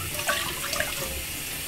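Water runs into a pot with vinegar already in it, set over medium to high heat for escovitch fish, a short splashing pour that is close and fairly loud.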